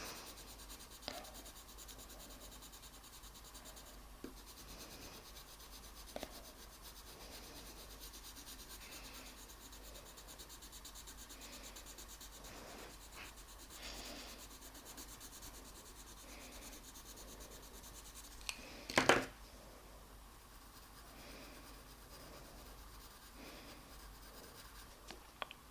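Coloured pencil scratching and rubbing softly on paper while blending brown ochre and silver grey on a drawing of a horse eye, a faint close steady rasp with a few small taps.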